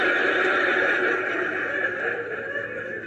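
A pony at a petting zoo neighs in a long, wavering whinny, fairly close and clear, trailing off toward the end.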